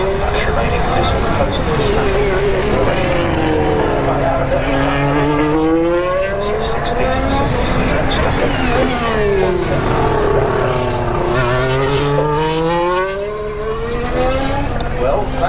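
Formula 1 cars race past a trackside spot at Turn 11 during a 2019 Grand Prix. Loud, high engine howls swoop by with falling pitch, one after another, under continuous commentary.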